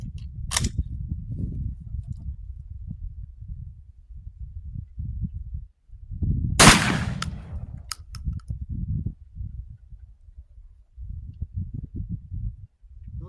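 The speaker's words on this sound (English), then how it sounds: "So I'm going to shoot the first one just a regular slug" An FN semi-automatic tactical shotgun firing a regular slug at an outdoor range gives two sharp, loud bangs about six seconds apart, with low rumbling and movement noise between them.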